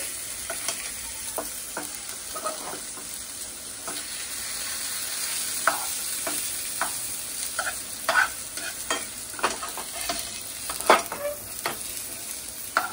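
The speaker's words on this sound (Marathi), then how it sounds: "हे बघा कशी फ्राय करते" Coated pomfret fish fries in a pan with a continuous sizzle, broken by scattered sharp crackles and spatters that grow busier toward the end. It is heard up close with no talking.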